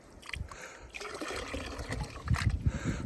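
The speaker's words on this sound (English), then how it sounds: "now my goal is to pan it" Sand for gold swirled in water in a pan, with close trickling, dribbling and sloshing, uneven and growing livelier toward the end, with occasional quiet noises from someone nearby.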